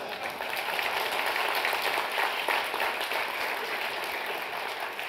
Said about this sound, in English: surely I deserve a better round of applause than that.